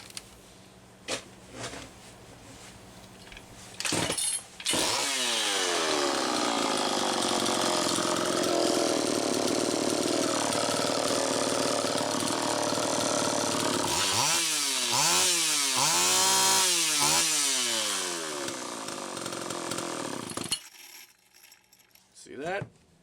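A Homelite Super EZ chainsaw with an air leak and carburetor trouble runs at a loud, screaming high idle, then revs up and down in several sweeping bursts before cutting out. A few clicks and handling noises come before and after.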